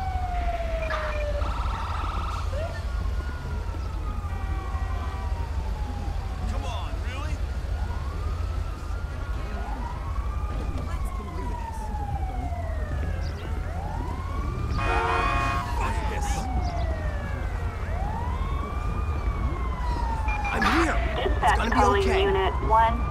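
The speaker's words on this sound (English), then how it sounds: "A fire truck is en route." Game fire truck siren wailing in Grand Theft Auto V, several rising and falling sweeps repeating steadily and moderately loud over a constant low rumble, with radio dispatch voices talking over it.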